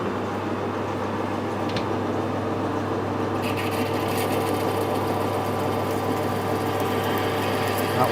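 A lathe boring a 19mm hole in a vintage nipple adapter, giving a steady, loud mechanical hum and whir that runs unbroken throughout, with faint extra chatter joining partway through.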